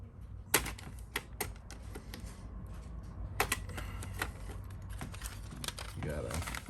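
A blade lightly scraping the surface of an Xbox 360 case during a console mod, heard as close, irregular scratchy ticks and short scrapes over a quiet, low background hum.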